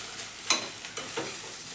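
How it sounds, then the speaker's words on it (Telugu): Egg fried rice with soy sauce and vinegar being stirred in a hot pan, a few quick scraping strokes over a soft sizzle, close and fairly quiet. "ఇప్పుడు ఇదంతా బాగా కలుపుకోవాలి"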